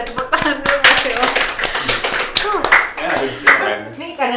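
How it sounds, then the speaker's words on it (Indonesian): A small group claps for Ilman during a volunteer-themed podcast, a burst of uneven close hand claps lasting several seconds, mixed with overlapping voices and laughter. "Kita tepuk tangan dulu buat Ilman."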